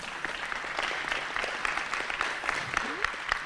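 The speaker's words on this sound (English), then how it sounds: "I think they deserve a round of applause, and all the exhibitors for competing today." Steady applause rises from the crowd at a livestock showmanship competition, honoring the exhibitors. The many hands clapping blend into a continuous, moderately loud wash, with a faint murmur of voices running underneath.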